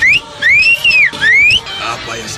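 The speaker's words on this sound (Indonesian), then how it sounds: "Apa yang sedang kau kerjakan dengan siulanmu?" A person whistles as a signal, sweeping up and arching down in several bright sustained phrases, loud and close, followed by a softer breathy tail, with a dramatic scene's ambience underneath.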